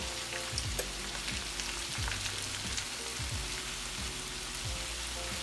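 Potatoes browning in a frying pan with onion added, a constant soft sizzle and crackle at low level, close by with no voices.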